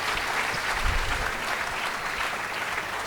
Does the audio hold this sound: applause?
yes